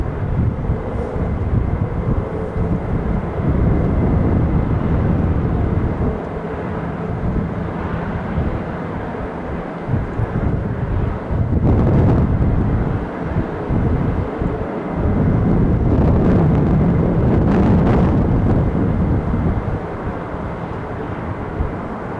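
F-15 jet engines run at RAF Lakenheath as a constant, distant broadband roar that swells and eases in long waves, with no voices over it.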